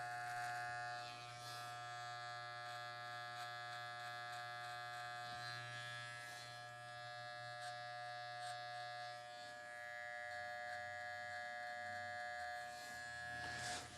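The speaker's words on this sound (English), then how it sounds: "we're going to turn the clipper around and shave to it" Electric hair clippers buzzing steadily up close while shaving a neckline during a haircut, a constant hum with slight shifts in tone as the blades meet the skin.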